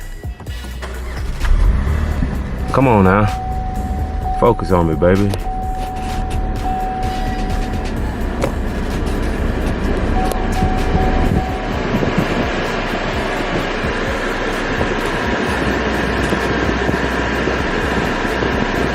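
A 2011 Cadillac SRX engine, from a wrecked car under rebuild, cranks with a few whining starter bursts, then catches and settles into a steady running drone; someone talks briefly at the start.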